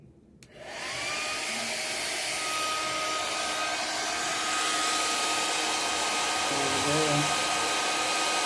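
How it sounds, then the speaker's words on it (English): A heat gun or blower roars steadily over poured resin being shaped into ocean-wave art, starting abruptly and holding a loud, even rushing hiss throughout. "so blow it back first, and then heat it up, and blow it back again."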